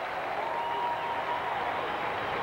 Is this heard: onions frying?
no